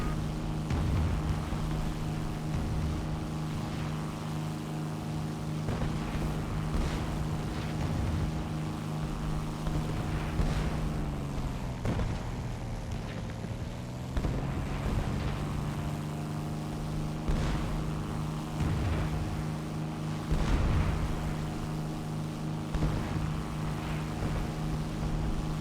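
Hawker Tempest Mk V fighter plane in a combat flight game, a continuous loud droning piston-engine roar held above 600 kph, with a steady harmonic hum that dips and bends briefly midway before settling back.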